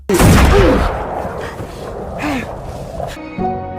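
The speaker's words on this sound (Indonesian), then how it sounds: "Saat mendengar suara tembakan dari kejauhan" A sharp, loud gunshot in a film bursts at the start, followed by echoing rumble and scattered noises fading into a quieter background.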